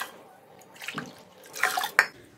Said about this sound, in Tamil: அதில் 3 கப் தண்ணி விட்டுக்கலாங்க.